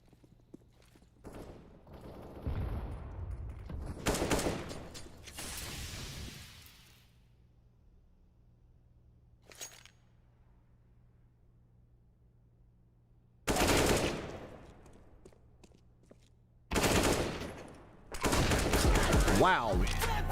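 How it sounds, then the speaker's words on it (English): CS:GO match gunfire: several loud bursts of rapid shots in separate clusters, with quiet stretches between them and one short isolated crack in the middle, ending with sustained firing. "a 3-kill streak right there for Calf."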